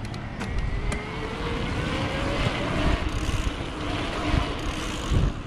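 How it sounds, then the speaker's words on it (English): A Specialized Turbo Como 3.0 e-bike's louder, higher-torque 90 Nm speed-pedelec motor whirs steadily at close range as the bike rides along, with road and wind rumble beneath and no talking. "this is the louder, higher torque, 90 newton meter, like speed pedelec motor"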